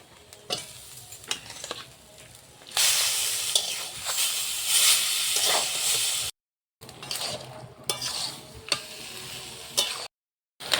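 Boiled taro leaves are stirred with fried coconut in a pan, with a soft scraping and light sizzling that swells midway and pauses twice.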